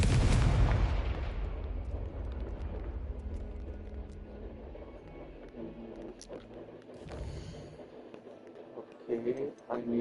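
A Confringo fire spell explodes in Hogwarts Legacy, a loud blast that starts at full force and decays into a fading rumble, followed by a few smaller pops and crackles late on.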